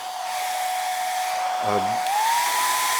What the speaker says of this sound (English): A hairdryer.